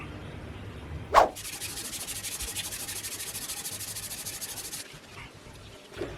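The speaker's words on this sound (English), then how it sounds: "I started sanding this thing this morning" Continuous scratchy sanding of a metal lathe bed rail, a steady rubbing hiss for several seconds after a sharp knock, then stopping; close and fairly quiet.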